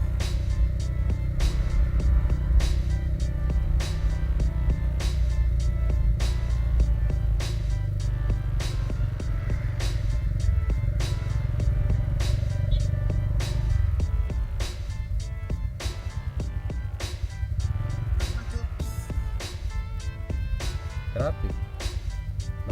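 Busy road traffic with cars and motorcycles passing, a steady rumbling wash of engines punctuated by frequent sharp clicks and knocks throughout, close and continuous with no clear talk.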